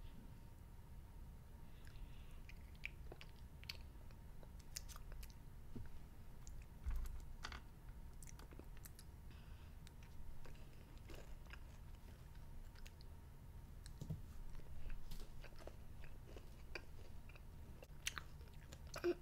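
Crunchy sour apple Easter candy with a soft chocolate centre being chewed close up, with repeated small crisp crunches and bites spread through a steady quiet background, no talking.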